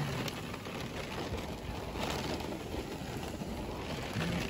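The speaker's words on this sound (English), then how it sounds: "proper gloomy out there, massive raindrops" Heavy tropical rain with massive raindrops falls steadily during a storm in the Northern Territory, a dense, even hiss of rain on surfaces that stays constant and fairly loud throughout, with no speech.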